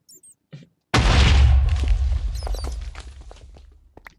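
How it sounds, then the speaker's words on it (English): A single loud TNT blast in the video game Minecraft erupts suddenly after a short quiet fuse, a deep booming roar with crackling debris that slowly fades out over several seconds. "better stand back for this one, TNT will light."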